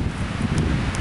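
Wind blowing along a forest trail, a steady low rumbling roar with faint rustle, close and fairly even in strength throughout, with no voices.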